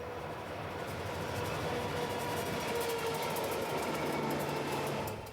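Steady, continuous rumble and rattling clatter of a long train rolling past nearby at about 50 miles per hour, holding a constant loudness throughout with faint squeals over the roar.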